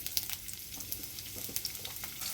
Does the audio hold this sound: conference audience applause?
no